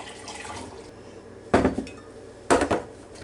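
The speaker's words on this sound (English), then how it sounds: "We're just going to dissolve this together, the water and the Jello, just plain old Jello." A spoon clanks against a bowl in two short, lively bursts of stirring Jello powder into boiling water, with quiet kitchen background between them.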